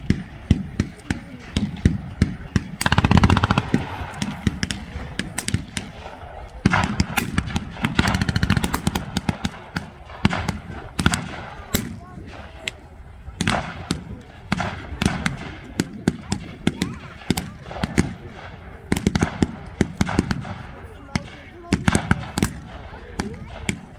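WWII reenactment battle in Bowling Green, Kentucky, with an MG42 machine gun mounted on a Bren gun carrier firing support: loud bursts of rapid gunfire and scattered single shots crack repeatedly across the field throughout.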